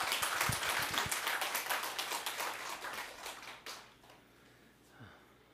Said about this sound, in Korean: 정본 스님을 다시 한번 큰 박수로 맞이해 주시기 바라겠습니다.